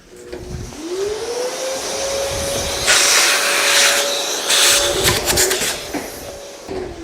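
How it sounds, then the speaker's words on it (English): Shop vacuum sucking wood chips out of a freshly bored bolt hole in a bed-post mortise and tenon joint: a steady close whine and hiss, with rattling bursts of debris getting pulled into the hose. "I'll just vacuum that out because I got the vacuum right here."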